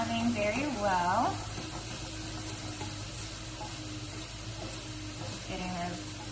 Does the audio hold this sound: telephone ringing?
no